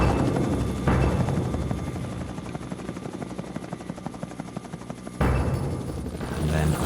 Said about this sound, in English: A United Nations helicopter has been searching the jungle for them.